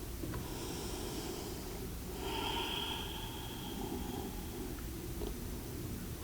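Deep, controlled breathing in an Ashtanga yoga forward fold: a shorter breath followed by a longer, hissing one, soft and near, alone without speech.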